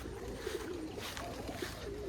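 Pigeons or doves cooing softly in a backyard where birds are fed and a neighbor's chickens roam, a few low repeated coos over a steady outdoor background hiss.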